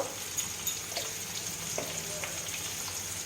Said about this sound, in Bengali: এবার এর মধ্যে আমি কিছু মশলা দেব দেব ধনে গুঁড়ো দেব জিরে গুঁড়ো লঙ্কা গুঁড়ো